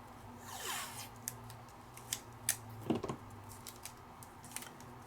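Paper being cut by hand with scissors for a homemade calendar gift, a series of short, crisp snips at irregular intervals, close and fairly quiet, with no talking.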